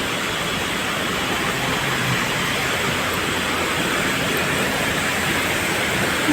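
Water flows steadily at an outdoor spot in Bangkok, Thailand, making a continuous even broadband rush like a small waterfall or fountain that holds constant from start to end with no voices.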